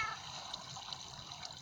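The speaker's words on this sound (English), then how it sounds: "the water, it will go into the water and then be thrown down here" Water flows steadily in a Minecraft village trading hall, a continuous trickling wash with small splashy bubbles, moderately loud and without pause.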